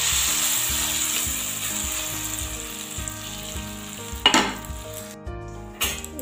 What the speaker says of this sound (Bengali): এবার ছোলার ডালের পেস্টটা দিয়ে দেবো।